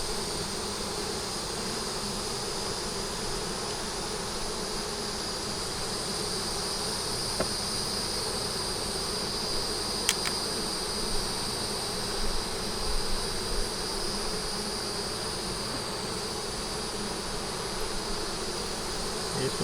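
Bees buzz around an open hive, making a dense, steady drone that holds at an even level throughout, with a few faint clicks.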